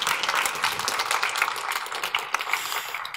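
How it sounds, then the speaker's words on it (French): A conference audience at a French-language tech talk applauds in dense, steady clapping close up, holding an even level throughout. "Donc si on peut juste les applaudir,"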